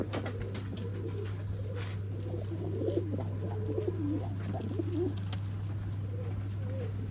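Old line pigeons cooing in a loft in Bangalore, a series of soft throaty coos rising and falling over a steady low hum, with faint rustling in the background.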